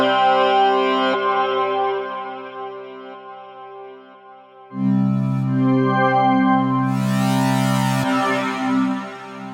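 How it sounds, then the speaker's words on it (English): SEKTOR polyphonic wavetable synth preset holding a sustained chord whose timbre shifts as a mod envelope morphs through wavetable shapes, with a brief pause then a brighter, buzzier swell; loud, close and alone. "As I adjust the envelope, you can hear different effects as the morphing moves through the shapes in different ways"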